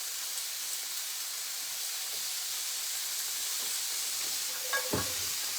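Broccoli and onion fry in hot oil, giving a continuous close hissing sizzle with a brief clatter of stirring near the end.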